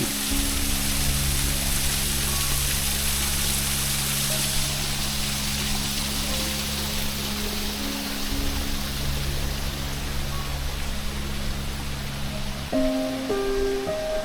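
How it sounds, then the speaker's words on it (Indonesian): A waterfall near the Cangar bridge rushes in a steady, broadband roar throughout, with faint tonal hums layered underneath. "Di sini juga ada air terjun, coy."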